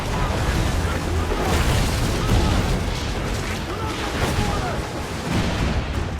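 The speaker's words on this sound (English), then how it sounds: "The chain shot is a stun weapon. Hitting ships slows them down." Ship cannons in Assassin's Creed 4 fire chain shot as a dense, continuous barrage of booming blasts that overlap for several seconds. The battle din stays loud and steady throughout.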